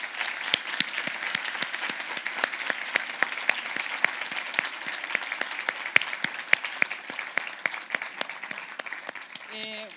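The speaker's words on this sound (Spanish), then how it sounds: "Démosle un aplauso." Audience applause at the end of an astronomy talk, a dense steady clapping that fills the room without a break, fairly close and loud, with a few sharper individual claps standing out.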